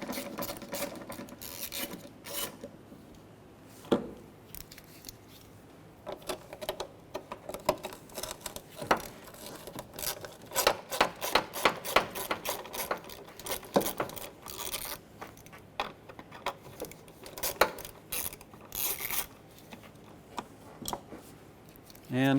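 Small 5.5mm screws are worked out of plastic on the blower motor resistor of a 2003-2021 Chevy Express 3500 van, giving close, irregular ratcheting clicks and scraping rasps in short bursts.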